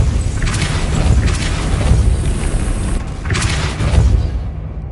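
Depulso spell blast in Hogwarts Legacy, two heavy rumbling booms with bright crashing bursts about three seconds apart over a loud low roar, no talk.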